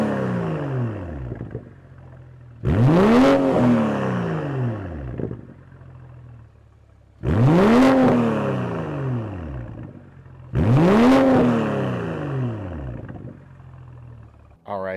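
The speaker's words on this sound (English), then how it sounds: "let's go ahead and listen to see what this exhaust sounds like in the 3 different drive modes" A 2023 BMW M440i fitted with an aftermarket exhaust revs three times in sharp, loud bursts, each rising then falling away to a steady idle rumble between them.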